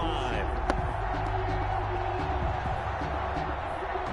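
Steady roar of a stadium crowd in a Madden-style American football video game on PS4, with the Browns on an opening drive, a dense continuous wash of cheering running throughout with a brief sharp accent near the start.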